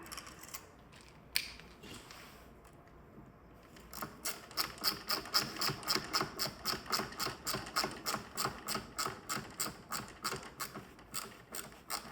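Retrofit power-fold mirror parts on a Crafter SY van being fitted, with a long run of steady, evenly spaced mechanical clicks like a ratchet, preceded by a few scattered knocks and quiet handling; close and fairly loud, no talking.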